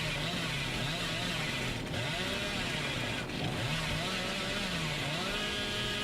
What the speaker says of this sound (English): Apple has no way of telling how far he's revving the chainsaw.